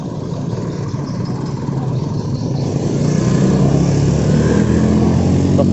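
Motorcycles ride over the broken Kapuh bridge, a steady, loud engine drone and rumble that grows slightly heavier midway, with no break in the running motor sound.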